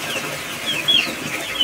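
Farmyard chickens clucking nearby, a few short high clucks scattered over a low background of rural ambience.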